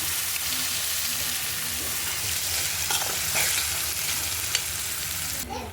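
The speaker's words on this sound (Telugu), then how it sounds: "దోసకాయ పచ్చడి మగ్గింది ఫ్రెండ్స్." Cucumber chutney with onion, garlic, cumin, turmeric and coriander fries in a pan, giving a loud, steady sizzle with occasional scraping stirs throughout and no talking.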